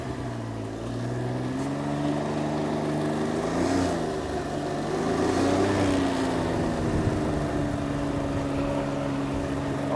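A Can-Am Ryker Rally 900 three-wheeler's engine drones and rises as it pulls away on a road near Rovaniemi, the revs swelling and settling in waves, close and fairly loud throughout.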